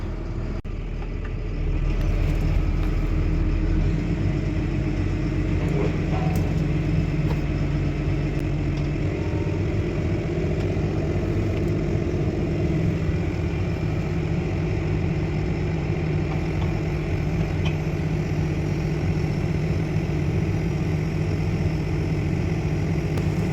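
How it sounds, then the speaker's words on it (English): A farm tractor's engine, about to be hooked up to a land roller, settles into a steady, deep idling rumble after a brief rise in the first seconds, running continuously and close by without talk. "just gonna get this tractor hooked up to the land roller"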